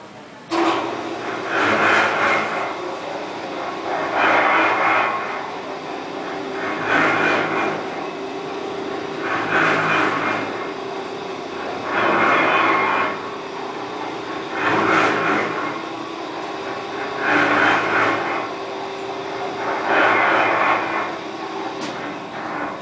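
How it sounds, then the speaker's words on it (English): A chocolate conche machine runs at Hershey, cycling through repeated rumbling, churning swells about every two and a half seconds in a steady mechanical rhythm, with no clear talking. "Now I'll have one of the workers throw the switch and rev up the conch machine."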